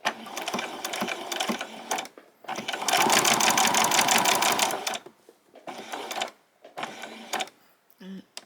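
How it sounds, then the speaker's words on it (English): A sewing machine stitches a small piece of Velcro onto a fabric pajama top in several loud, close bursts of rapid mechanical whirring, the longest in the middle, separated by short pauses. "So to finish it off, I've just got a very small piece of Velcro, which I'm just going to stitch right up."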